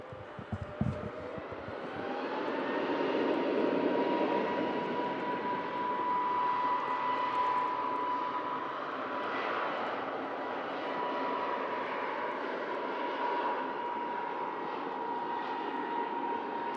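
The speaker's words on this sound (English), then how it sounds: "Jet2 A321 Neo on the roll there as well. Another departure off 23 left." A Jet2 Airbus A321neo taking off down the runway, its engines building into a sustained roaring rumble with a rising whine, heard from a distance and holding steady throughout.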